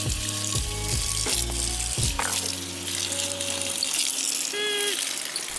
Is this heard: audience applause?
no